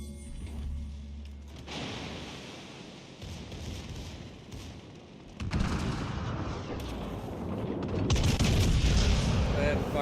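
In World of Warships, the secondary guns of the battleship Atlantico fire in repeated booming bursts with a rolling rumble, growing louder and denser in the second half.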